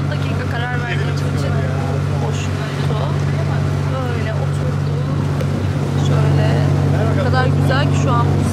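A small rented boat for six to eight people motors across the water, its engine a steady low drone close by, with water and wind noise and chatter and talk on board over it.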